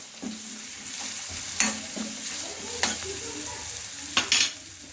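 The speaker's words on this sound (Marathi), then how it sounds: "हे सगळे चमच्याने आणि परत हलवून घेणार आहे" A spoon stirs turmeric, salt and sugar in a pan over a steady sizzle while making rava upma. There are a few scraping knocks against the pan, up close, with no voices.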